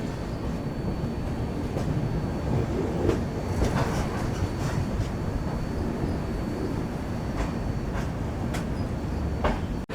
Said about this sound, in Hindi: हमारे पीछे राजधानी को क्रॉल कराया जा रहा है